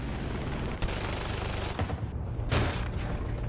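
A Ju-87 rear gunner's machine gun fires in a video game, with rapid bursts of gunfire rattling on and off over a constant engine drone, sharper blasts standing out briefly.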